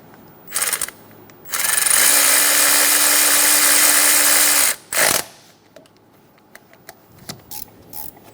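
Ratchet or power tool snugging the motor mount bracket bolts on a 2003-2007 Honda Accord, a brief burst, then a long loud whirring run of about three seconds and a final short burst, close up, with light clatter after.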